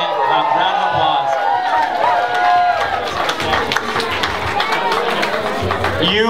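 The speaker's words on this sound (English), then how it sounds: "Give yourselves a round of applause." Campaigners at a student union elections night get a dense round of clapping and crowd noise from a packed room, steady and loud for several seconds, with a voice talking over the start.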